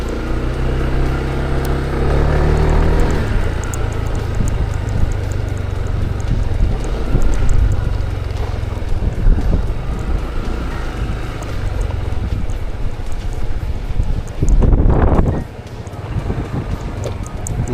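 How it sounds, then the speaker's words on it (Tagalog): Strong wind buffets the microphone continuously with a loud rumbling roar, gusting stronger near the end, with faint background noise throughout. "Lakas ng hangin ito sa amin."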